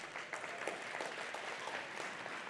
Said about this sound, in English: Now give us a round of applause from the back of the room.